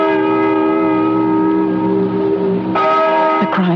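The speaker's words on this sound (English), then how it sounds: "Listen to that bell." A large bell rings loudly and steadily in a radio horror drama set in an old barn, its sustained tone shifting near the end with a few added strikes.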